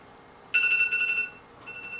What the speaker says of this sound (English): Oh, my alarm is going off.